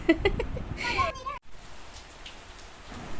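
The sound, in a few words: heavy rain falling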